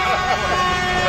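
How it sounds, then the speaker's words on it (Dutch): Passing vehicles, including trucks, honk their horns at a roadside spot, sounding as loud, overlapping blaring tones held through the whole moment. "Ja, ik moet zeggen, ze toeteren allemaal."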